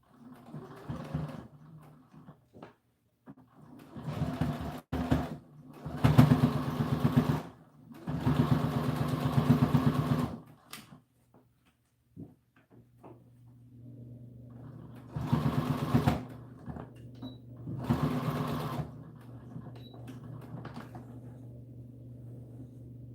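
A sewing machine stitches a seam on an American Girl doll dress, running forward and then backward in several short whirring bursts separated by pauses, with no talk.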